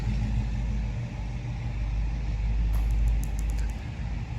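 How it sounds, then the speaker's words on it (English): A big block engine in a Squarebody truck idles at an auction, giving a steady low rumble close by that swells slightly in the middle, with a few faint high clicks near the end. "That big block sounds really good."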